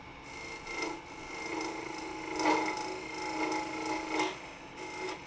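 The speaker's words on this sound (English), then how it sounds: "A little more shear scraping now will save a lot of sanding later." A steel scraper shears across a redwood bowl on the lathe, a steady rasping scrape with rhythmic swells as the tool passes over torn grain, close and continuous with no voices.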